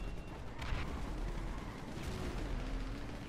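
Bombs go off in GTA Online, deep rumbling booms rolling and overlapping in a low continuous barrage, moderately loud and somewhat distant, with no talking.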